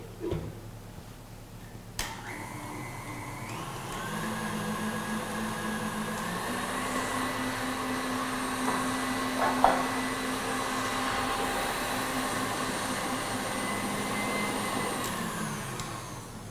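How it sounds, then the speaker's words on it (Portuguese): An electric mixer beats eggs for cake batter, a steady motor whir starting after a brief quiet moment and running continuously at moderate loudness with small clicks and bumps. "Então eu vou bater os ovos primeiro"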